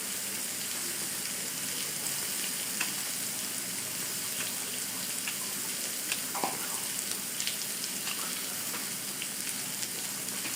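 Onion sizzles on a George Foreman grill, a steady broadband frying hiss that stays even throughout with a few small crackles and pops, no talk.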